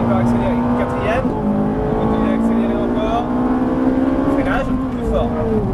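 A Ferrari 458 Italia accelerates hard on the Dreux race track, its engine note climbing loud and close through the gears, with an instructor's voice talking over it.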